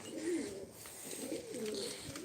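Pigeons coo in soft, repeated rolling calls, several overlapping phrases close by, with faint higher chirps in the background.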